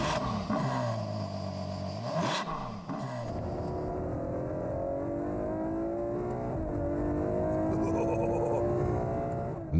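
Ferrari FF with its 6.3-litre V12 accelerating hard, the engine note climbing steadily through the revs with brief dips at the gear changes, loud and close and unbroken for about ten seconds.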